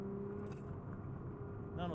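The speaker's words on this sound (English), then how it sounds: "when I step on the accelerator, the torque goes up" A supercharged Lexus drift car accelerates, its engine a steady low drone with a faint rising whine near the end, heard from inside the cabin at moderate level.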